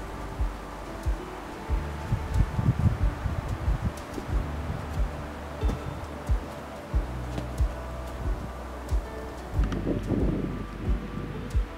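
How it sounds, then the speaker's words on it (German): Strong, cold wind buffets a mountain viewpoint in the Elbsandsteingebirge, a constant roaring rush with low rumbling gusts and microphone buffeting for about twelve seconds, with no voices. "Ein kräftiger kalter Wind machte den Aufenthalt etwas unangenehm."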